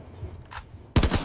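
Gunfire from a video game character shooting, heard as a faint, muffled burst early on and then a loud, dense burst of rapid shots that starts abruptly near the end and keeps going.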